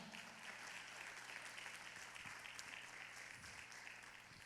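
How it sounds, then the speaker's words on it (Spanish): A church congregation applauds strongly for the Lord, a dense, steady wash of many hands clapping throughout, heard at a distance and fairly faint, without a voice on top. "Dele palmas fuerte al Señor"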